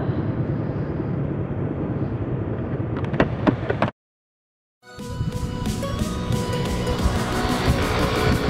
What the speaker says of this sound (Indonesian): Ini mobil.